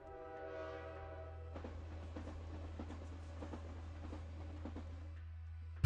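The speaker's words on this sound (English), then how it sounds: "Ooh, a train." A train in the video game Arknights rumbles along with a steady low drone, a brief horn-like tone at the start, then clattering, rhythmic rail noise.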